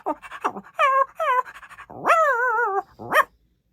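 A voice actor imitates Mobi the dog from the animated series Mighty Raju, producing a quick run of close, loud yelping barks and whiny howls, with no other sound around them.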